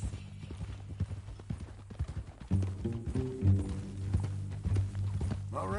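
Horse hooves clip-clopping in Red Dead Redemption 2, a close, rhythmic run of hoofbeats mixed with game background sound, under occasional voices.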